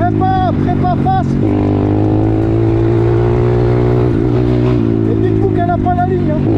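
A 140cc Yamaha YX motorcycle engine with a home-built tune runs loud and close in third gear, its revs rising and falling in a sustained roar, while someone talks briefly over it.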